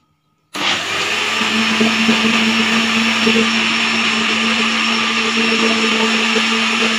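A countertop blender whirs steadily and loudly, blending a milkshake at home, starting abruptly after a brief silence and running continuously with a constant motor hum.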